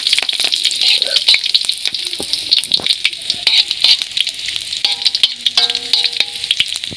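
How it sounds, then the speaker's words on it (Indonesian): Onions and vegetables sautéing in a pan for Padang-style boiled instant noodles, a steady bright sizzle with scattered clinks and stirring scrapes, close and fairly loud, no talk. "kita mulai menumis bawang terlebih dahulu"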